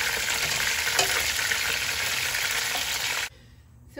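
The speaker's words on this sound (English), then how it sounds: "I'm going to fry this for like about a minute on each side" Hassa (armored catfish) sizzles loudly and steadily in hot oil for a Guyanese-style curry, then cuts off abruptly near the end, leaving faint room tone.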